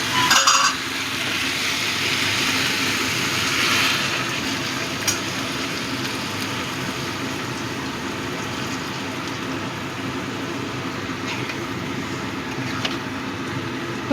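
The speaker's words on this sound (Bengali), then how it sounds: "এবার আমি দিয়ে দেবো গরম জল।" Prawn and vegetable curry sizzles steadily in a hot pan as hot water is poured in, with a continuous frying hiss and a few faint utensil clinks, and no talking.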